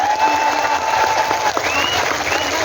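Crowd clapping at an Islamic religious gathering featuring fans of KH. Anwar Zahid, a dense continuous roar of applause with cheers and voices mixed in throughout.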